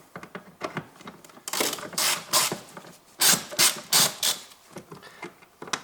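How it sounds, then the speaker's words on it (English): A ratchet wrench with a 10mm socket loosening ignition coil bolts on a 2002–2009 Toyota Prius, heard as close bursts of rapid mechanical clicking with short gaps between them. "now I take my wrench that I can open this"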